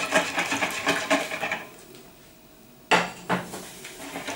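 A spoon stirs boiled milk into melted butter and flour in a pot, giving rapid close scraping and clinking against the metal, a quiet pause, then more clattering strokes.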